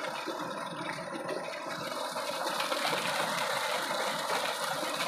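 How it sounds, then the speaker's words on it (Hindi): Steady mechanical churn with rushing water from a running tube well pump engine in a village field, a continuous, moderately loud drone that swells slightly midway, with no talking. "चलता हुआ ट्यूबवेल"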